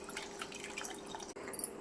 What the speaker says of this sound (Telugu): చింతపండు ఇలా వాటర్లో కలుపుకొని ఒక 15 మినిట్స్ తర్వాత ఇలా తీసుకోవాలన్నమాట